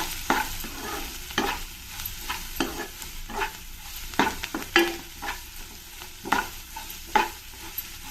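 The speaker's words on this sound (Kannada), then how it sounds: "ಈಗ ಇದನ್ನೆಲ್ಲ ಸ್ವಲ್ಪ ಚೆನ್ನಾಗಿ ಮಿಕ್ಸ್ ಮಾಡ್ಕೊಳ್ತೀನಿ" Turmeric powder being stirred into bitter gourd frying in a pan, a steady sizzle broken by repeated scraping strokes of the spoon at an irregular rhythm, close and clear with no talking.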